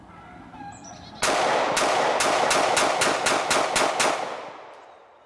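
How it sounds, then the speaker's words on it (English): An ATI Fat Boy pistol fires brass case ammunition in a rapid string of about ten sharp, loud shots, evenly spaced over roughly three seconds, with no speech. "Brass case ammo shooting like a house of fire"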